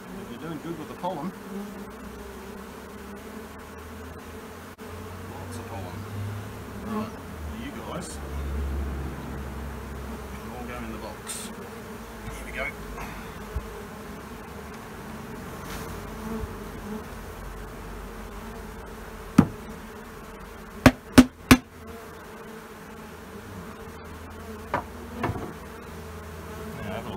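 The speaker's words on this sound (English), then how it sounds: "There's a lot of bees in there." Honey bees swarming in a possum box, a continuous dense buzz of many bees close by with shifting pitch as they move, broken by several sharp clicks and knocks of handling near the end.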